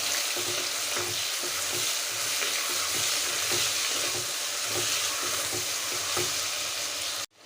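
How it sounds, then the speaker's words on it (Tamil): Thin-sliced onions sauté in a pan for beef biryani, giving a steady, loud sizzle with a soft, repeated scraping rhythm from stirring, heard close and without talk. "போட்டு நல்லா வதக்கிக்கலாம்"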